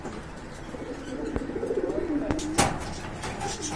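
Red checker pigeons coo in a low, rolling murmur over a steady background hum, with a few sharp clicks and a brief louder burst near the end.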